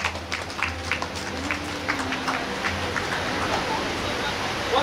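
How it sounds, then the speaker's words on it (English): Wedding guests applaud the newlyweds at a ceremony, a steady wash of distant clapping blended with crowd murmur, while a voice speaks over it. "请大家掌声欢迎新鲜出炉的Gints生和Gints太。"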